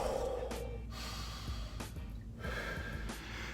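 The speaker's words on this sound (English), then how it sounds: "Deep breath, right in the middle." Deep breathing during a martial arts class conditioning exercise, two or three slow, breathy inhales and exhales close to the mic over a steady room hum, with no talk.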